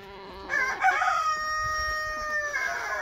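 Chickens and a rooster on a countryside farm: a close, loud crow rises and trails off over a few seconds, with softer clucking around it.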